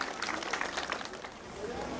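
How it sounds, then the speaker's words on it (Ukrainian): Audience applause for 11th-grade graduates after their waltz at a school last-bell ceremony in Dnipro, a steady, fairly distant crowd clapping that thins slightly toward the end. "Бурхливі оплески випускникам 11-го Б-класу за такий чудовий вальс."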